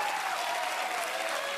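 Steady, dense applause from a crowd on its feet at a Southern California championship pickleball match in mixed doubles, a continuous wash of clapping at even loudness throughout with no talk over it.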